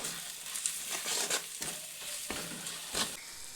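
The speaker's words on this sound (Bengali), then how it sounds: "তো এরপরে মশলাটিকে আরও কিছুক্ষণ ভেজে নেব।" Spices with garam masala fry in a pan for a bread chop filling, giving a soft steady sizzle broken by repeated scraping stir strokes, quiet and close with no talk.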